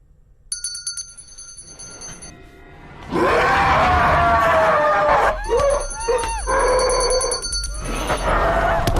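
Telephone ringing with a repeated electronic ring in short bursts, followed by loud, dramatic screams and groaning cries from a zombie-outbreak film scene.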